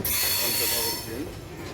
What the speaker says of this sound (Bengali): দেখতে পাচ্ছেন আমাদের ট্রেনটি ছেড়ে দিল